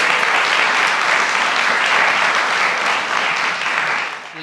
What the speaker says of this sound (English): a round of applause for her and her amazing accomplishments